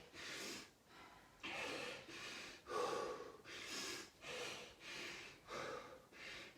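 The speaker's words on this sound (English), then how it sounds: "Control that breathing as much as you can." Heavy rhythmic breathing from someone mid-way through a full-body kettlebell workout: about eight loud, close, forceful exhales and gasps in a steady cycle, with no talk over them.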